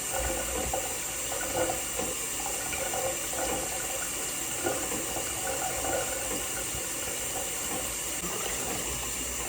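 A tap runs steadily while someone washes their face at a sink, a continuous close splashing hiss of water lasting throughout without talk.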